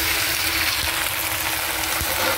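Squid sizzles steadily in a hot pan with browning onion and garlic, a continuous close frying hiss with a few soft clicks of stirring.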